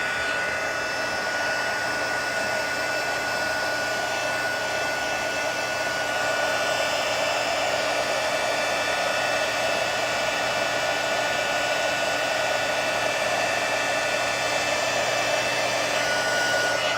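A loud heat tool runs steadily on craft material, a constant blowing whir like a hair dryer that holds nearly unchanged for the whole stretch with no talking.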